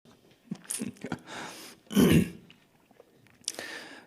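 Coughs and throat clearing from a person during a sermon at a church: several short, harsh bursts, one strongest in the middle, spread over a few seconds, fairly close and with no speech.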